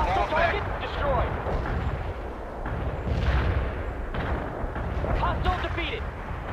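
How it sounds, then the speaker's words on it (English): Artillery barrage explosions in the video game World in Conflict, dense rolling booms and blasts piling up continuously, loud and rumbling, with game voices talking amid the barrage. "Artillery barrage hit for full effect."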